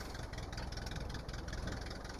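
A tractor engine idles steadily and loudly up close, its low rumble joined by a faint knocking vibration, on a farm while a mower is being unhitched; no one speaks.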